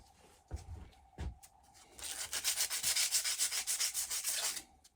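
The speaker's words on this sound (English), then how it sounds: "Get a disc. Get a bit of sandpaper, don't need a lot." Sandpaper rubbed on a mountain bike brake disc: a couple of light scrapes, then a close run of quick rhythmic back-and-forth rasping strokes that stops abruptly, with no talking.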